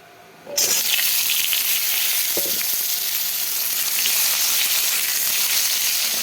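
Potatoes and vegetables hit hot oil with a tempering of cumin, bursting into a loud, steady close-up sizzle that holds evenly after a quiet start.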